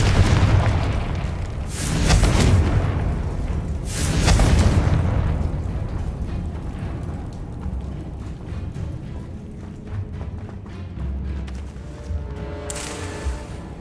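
An explosion spell cast in the Hogwarts Legacy video game: two loud, deep booming blasts about two seconds apart, followed by a rumbling tail and a softer burst near the end, with no talking.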